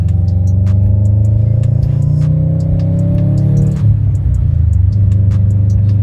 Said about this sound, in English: the car sounds like a cat just purring